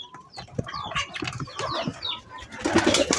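Pigeons in a nesting loft coo and flap their wings near the microphone, with soft, irregular wingbeats and calls running throughout and growing busier toward the end.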